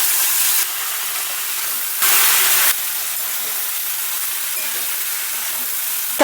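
Cauliflower and potato frying in a covered pan, a steady broadband hiss and sizzle that runs throughout, with a brief louder burst of sizzling partway through.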